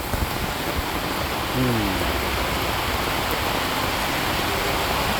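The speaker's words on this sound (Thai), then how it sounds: "วันนี้ฝนตก" Steady rain falls outdoors as a dense, even hiss that fills the whole stretch, with a brief faint tonal sound partway through.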